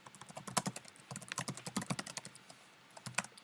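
Close, quick clicking of keys on a computer keyboard, typed in short irregular bursts with brief pauses and no voice.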